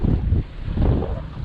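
A small fishing boat runs over a sandbar and back into a creek in North Queensland, its engine drone mixed with loud wind buffeting the microphone and water rushing past, continuous and close.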